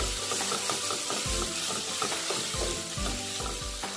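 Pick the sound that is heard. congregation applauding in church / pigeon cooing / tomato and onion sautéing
tomato and onion sautéing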